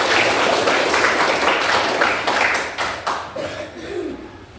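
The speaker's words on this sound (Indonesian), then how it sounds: "tepuk tangan untuk kita semua" A classroom audience claps for everyone during a teacher's supervised lesson on social norms, a dense round of applause that thins out toward the end.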